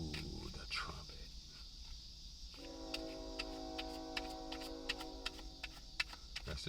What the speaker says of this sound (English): That's the train coming past.